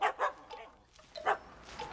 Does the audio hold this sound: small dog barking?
yes